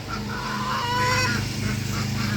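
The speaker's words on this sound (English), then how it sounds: "And the ducks are beside themselves." Agitated waterfowl honk and quack in a loud, continuous chorus, close by and overlapping, in a backyard flock with chickens and ducks during hurricane cleanup.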